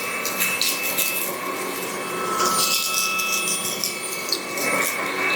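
Klarpul 600W cordless stick vacuum cleaner at full power, a loud steady airy whine with a sharp high tone, broken by brief scraping surges as it passes over a surface.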